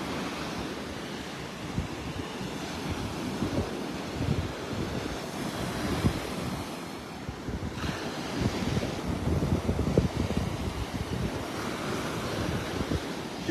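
Surf breaking on a North Naples, Florida beach on a rainy, windy morning: a steady rushing roar of churned-up waves mixed with gusty wind buffeting the microphone, no voices.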